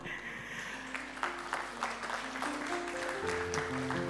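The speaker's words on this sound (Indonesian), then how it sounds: "Kita sambut dengan tepuk tangan." Wedding guests applauding as the bride and groom, Abraham and Jessie, enter the room, a moderate, somewhat distant patter of clapping under background music and chatter.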